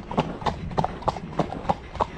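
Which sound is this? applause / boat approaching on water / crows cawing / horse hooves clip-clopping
horse hooves clip-clopping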